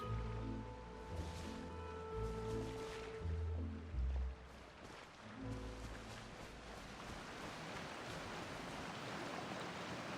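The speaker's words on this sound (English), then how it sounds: "Oh, it's raining." Rain falls steadily in the video game Genshin Impact, making a soft, even hiss. Low music plays beneath it at first, and the rain continues alone afterward.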